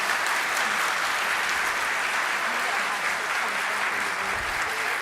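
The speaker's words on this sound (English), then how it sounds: "please give them a round of applause for their time" Steady audience applause at the closing session of a 2019 conference on transfer students, a dense, even wash of clapping that holds at a constant level from start to finish with no speech over it.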